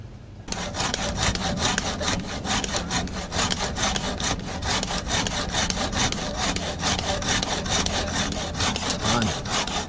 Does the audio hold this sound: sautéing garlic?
no